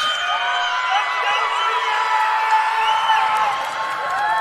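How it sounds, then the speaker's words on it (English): Crowd at a gymnastics tumbling event cheering and whooping, a dense sustained roar with overlapping shouts and whistle-like cries, loud and continuous throughout. "And the crowd is amped."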